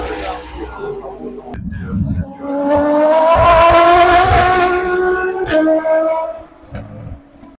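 Race cars at the 24 Hours of Le Mans sweep fast through a corner, engines rising to a loud, sustained near pass before fading, with tonal engine notes rolling across several seconds.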